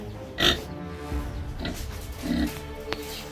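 Outdoor-raised pigs on a farm in Lower Saxony, Germany, give a few scattered grunts and one sharper squealing oink, fairly close but not loud, amid low background noise.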